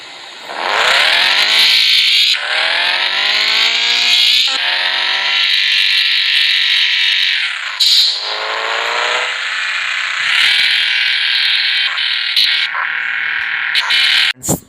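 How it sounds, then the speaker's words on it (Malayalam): A Mustang car mod in Bus Simulator Indonesia revs continuously with a loud, buzzy engine tone, its pitch sweeping upward several times across the whole stretch, with no talking. "അപ്പോൾ ഇത് തന്നെയാണ് ഈ കാറിൻ്റെ സൗണ്ട്."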